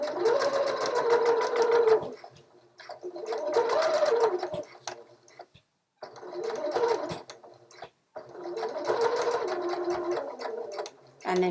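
A sewing machine stitches a seam on scrubs in repeated rhythmic bursts of about two seconds each, separated by short pauses, close and fairly loud.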